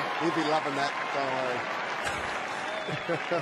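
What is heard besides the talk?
crowd applause at AFL match for Kennedy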